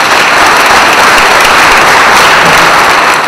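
A large audience applauds loudly and continuously during Artur Nalbandyan's speech at a public gathering in Vanadzor, a dense, even wash of many hands clapping with no voices over it.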